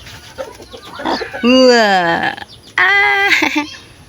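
A broody hen with her third batch of newly hatched black and gray chicks clucks loudly in two drawn-out, rising vocal bursts close by, with faint peeping and low background noise between.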